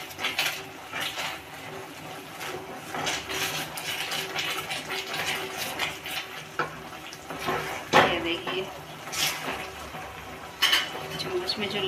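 Halwa being stirred in a pan as it cooks, a steady scraping and soft sizzling with occasional clinks of the spoon against the pan, close and moderately loud.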